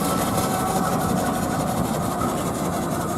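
A vintage traction engine runs steadily at a rural vintage and country show, giving a continuous low mechanical chug and rumble with no break in level across the short stretch.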